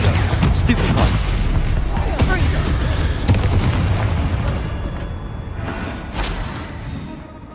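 Spell blasts from Confringo and Expulso go off in Hogwarts Legacy, a steady barrage of booming explosions layered over game music and effects, loud and continuous, fading slightly toward the end.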